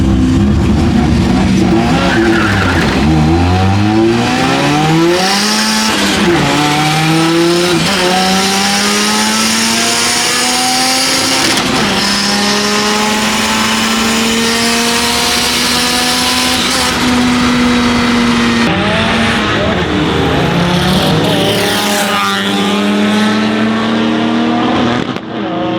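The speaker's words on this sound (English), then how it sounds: "lining up for my first ever roll race" Several cars at a GTR meet accelerate hard side by side in a roll race, loud close engines climbing through the gears with sharp shifts and a sustained rising roar, no voices.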